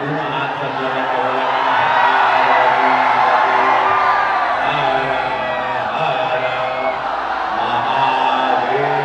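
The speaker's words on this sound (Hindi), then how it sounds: "जोरदार ताली बजाइए" A large outdoor crowd at a Bhojpuri stage show in Nagra, Ballia cheers, whoops and yells continuously, a dense, loud roar of voices and clapping that holds steady throughout.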